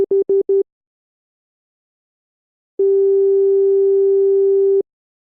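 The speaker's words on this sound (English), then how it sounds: "So we literally have a sine wave." A steady pure synthesizer sine wave tone: four short quick blips, a pause of about two seconds, then one sustained flat tone held for roughly two seconds.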